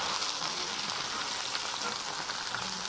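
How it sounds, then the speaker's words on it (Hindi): Okra (bhindi) pieces fry in a pan with a dense, even crackling hiss, steady and close for a few seconds, with no voices. "हम भिंडियो को फ्राई कर लेंगे, इन्हें तब तक फ्राई करेंगे जब तक इनका कलर ब्राउन नहीं हो जाता।"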